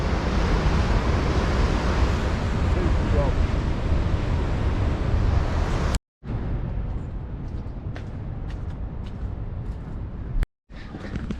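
Massive ocean waves crash at Porthleven in Cornwall, a loud continuous roar of surf mixed with heavy wind buffeting on the microphone, broken by two brief cuts to silence.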